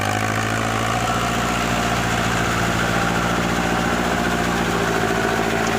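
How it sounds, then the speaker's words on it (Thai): An engine-driven rotary puddler works a rice paddy, its motor droning loud, close and continuous with a steady throbbing vibration throughout. "ใช้ขุบหมุนปั่น ตีให้รอบนาเลยนะครับ เริ่มทำงานแล้วนะครับ"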